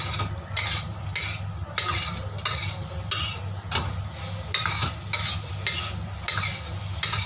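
Long beans and tofu being stir-fried in a wok, a steady sizzle broken by repeated rhythmic scrapes and clanks of the spatula against the metal, close and fairly loud with no talking.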